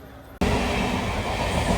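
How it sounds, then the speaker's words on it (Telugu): The Saptagiri Express overtaking on an adjacent track, arriving as a sudden loud roar and dense clatter of passing carriages close by, continuous to the end. "Saptagiri express overtake."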